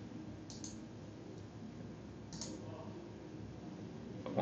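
A computer mouse clicks the save button twice, with two short, faint, crisp clicks a couple of seconds apart over a steady low background hiss.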